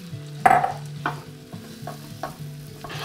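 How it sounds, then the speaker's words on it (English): Onions stirred in oil and butter in a pan for shepherd's pie, a soft low sizzle broken by a handful of distinct spoon scrapes and clinks against the pan, close and fairly quiet. "just stirring them round so they just become soaked in the oil and the butter, and they just begin to cook."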